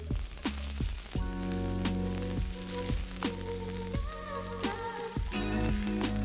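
Mushrooms and broccoli frying in a pan, a continuous steady sizzle with occasional sharper crackles and pops, while music plays over it; no voices.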